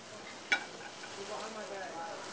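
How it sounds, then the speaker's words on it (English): Mushrooms sautéing in hot oil in a hot pan, a steady soft sizzle and faint stirring, with a brief sharp clink of utensil on pan near the start. "The oil's got to be hot, the pan's got to be hot, so that the mushrooms don't cool the pan down too much."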